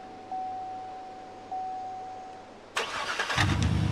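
A truck engine starts in the video game Farming Simulator 22. Two soft electronic chimes come first, then the starter cranks briefly and the engine catches into a steady, close, rumbling idle. No one speaks.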